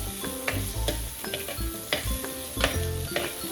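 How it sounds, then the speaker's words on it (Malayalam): Small shallots frying in oil until browned for sambar, a close, continuous sizzle broken by repeated scraping stirs and clinks of a spoon against the pan. "ഈ ചെറിയുള്ളി ഈ എണ്ണയിൽ കിടന്ന് നല്ല പോലെ ഒന്ന് മൂക്കണം"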